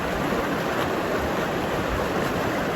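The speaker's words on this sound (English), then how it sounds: "This is the great waterfall of Ladakh," The great waterfall at Nerak in Ladakh, on the frozen-river Chadar trek, roars as a steady, dense wash of falling water, loud and unbroken, with no voices.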